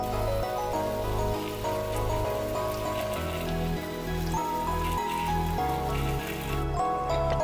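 Water sprayed into a reptile's humid hide, a steady hiss of fine droplets like light rain, close and continuous.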